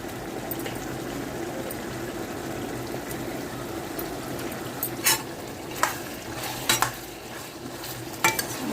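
Bottle gourd, onion and green chilli cooking in a pan give off a soft, steady sizzle, broken by a few sharp clinks and scrapes of a spoon against the pan near the end.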